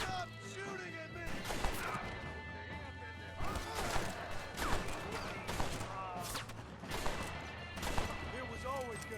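Gunfire from a Red Dead Redemption firefight, with repeated sharp shots and crashes ringing out over constant game background noise. Voices shout now and then across the clip.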